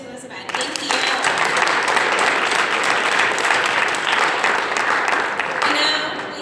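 An event audience applauds contributors to a literary magazine, a dense and loud burst of clapping that swells quickly and holds steady before easing off slightly at the close.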